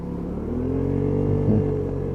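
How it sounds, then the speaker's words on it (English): A Vespa ET4 scooter running on a quick test ride, its small engine droning steadily and close, rising slightly in pitch as it picks up speed. "quick test ride just to show that this bike is working for the owner"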